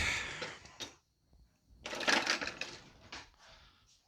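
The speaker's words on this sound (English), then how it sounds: "we're just gonna whisk that together until it gets all nice and liquidy" A whisk scrapes and rattles in a bowl of flour and marmalade sauce for orange chicken, in irregular clicky bursts with a short pause between, fairly close and with no talk.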